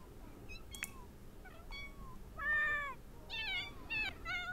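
Cats in The Sims 4 meowing several times, short nasal meows that grow louder and closer toward the end, over a faint steady game background with no talk.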